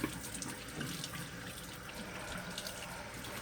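Running water at a bathroom sink as someone rinses their face, a steady close splashing wash with no talk over it.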